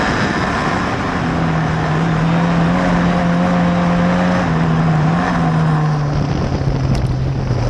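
Historic Formula Ford race cars lap the Croft circuit, one engine droning loud and steady with a rising and falling pitch as it passes through the hairpin, buffeted by wind noise.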